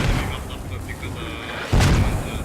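Mortar fire in a military shooter game, heard as a steady low rumble of distant impacts with one heavier boom near the end.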